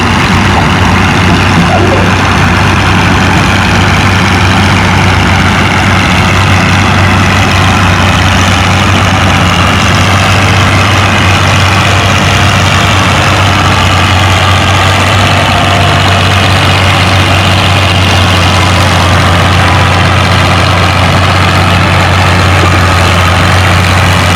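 A Massey Harris 44 tractor with a six-cylinder flathead engine runs loud and steady at a pulling event, a constant heavy low drone without pauses.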